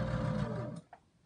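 A sewing machine hums steadily while stitching fabric for homemade face masks, then stops abruptly, followed by a faint click and quiet.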